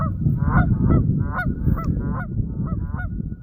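A flock of geese honking close by, repeated nasal calls in a rapid irregular chorus over a low rumbling background, with no talking.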